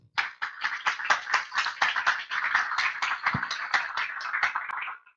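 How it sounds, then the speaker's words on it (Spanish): Applause from a small audience at a conference, distinct claps in a quick uneven rhythm, close and fairly loud, stopping abruptly at the end. "un fuerte aplauso para todos ustedes"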